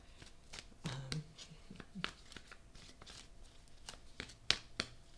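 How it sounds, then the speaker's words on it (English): Repeated soft riffling and slapping of a thick deck of tarot cards being shuffled by hand, close and steady, with no talking. "This deck is very thick and very hard to shuffle, so I like to make sure I get a good shuffle."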